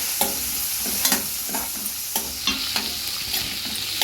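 Onions and green chilies fry in hot oil with cumin in a pan, a steady loud sizzle broken by regular scraping clicks of a spoon stirring, close up with no voices.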